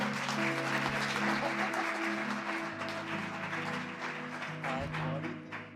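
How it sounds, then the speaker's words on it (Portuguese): A church congregation applauding during a worship service, dense sustained clapping from a crowd indoors that holds steady for several seconds, with music and voices underneath. "Dá um aplauso a Jesus aí"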